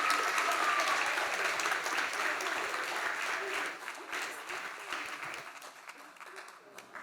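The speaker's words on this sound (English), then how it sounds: "we have to give the brilliant high schoolers a big round of applause for the fantastic job" An audience gives a big round of applause to high school debaters at an inter-secondary schools debating competition semi-final in the British Virgin Islands: full, dense crowd clapping that gradually thins and fades toward the end.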